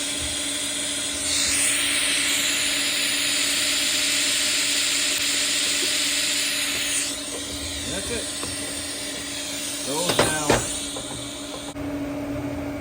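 A TIG torch tacks 304 stainless steel 1.5-inch schedule 10 pipe for a manifold runner. A steady, loud hissing arc buzz lasts about six seconds, followed by quieter clinks and handling noises.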